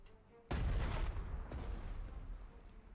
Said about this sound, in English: We already know this artillery is here.